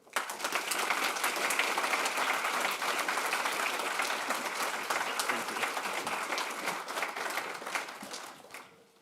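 A lecture audience gives a warm, steady round of applause that swells quickly, holds for several seconds and then fades out as the guest speaker takes the stage.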